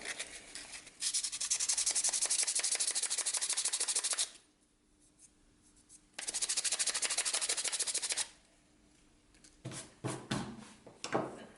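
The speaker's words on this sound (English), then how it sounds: "Now we just need to sand the rest here, and then we can oil it and call it a day." A wooden star is sanded by hand in two long, steady stretches of close, loud rasping, then quieter scuffs and light handling knocks.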